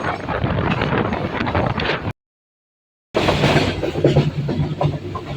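Train running at night from Dhaka, heard from inside a carriage: a steady loud rumble of wheels and rails with low hum, cut by about a second of silence midway before resuming.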